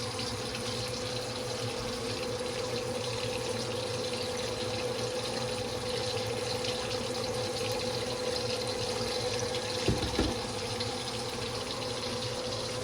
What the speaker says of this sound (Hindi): अब हम इसके अंदर दूध डालते हैं।